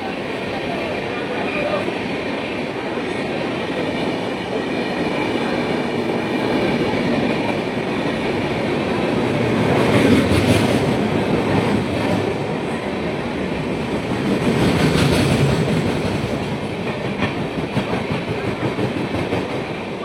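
An Indian superfast express train, the Howrah–Ahmedabad service, runs on rails with a loud, continuous rolling roar and rattle that swells twice as it passes nearby, with no break in the noise.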